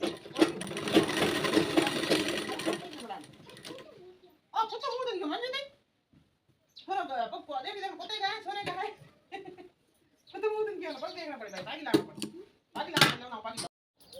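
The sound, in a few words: sewing machine stitching a kanchali blouse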